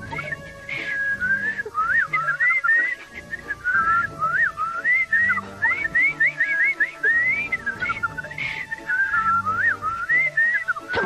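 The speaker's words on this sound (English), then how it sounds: "As long as these here monkeys keep up their whistling, then the snakes is no problem" Cartoon monkeys whistle in a steady run of quick, wavering, bird-like phrases, loud and close, over soft background music with no talk.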